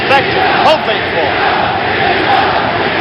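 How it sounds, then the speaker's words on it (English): A boxing crowd at the Jimmy Young versus George Foreman fight chants Young's name, a dense, loud, steady roar of many voices with rhythmic swells filling the arena throughout. "Crowd chanting, Jimmy Young, Jimmy Young, Jimmy Young."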